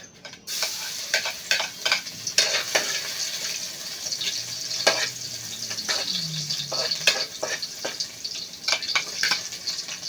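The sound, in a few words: garlic and onion being sautéed in a pan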